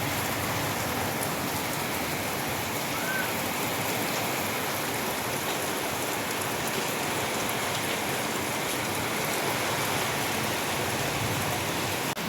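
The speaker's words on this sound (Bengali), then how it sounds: "আর এদিকে বাইরে শুরু হয়েছে তুমুল বৃষ্টি।" Heavy rain pours down outdoors in a dense, steady wash of noise that holds constant throughout, with no voices.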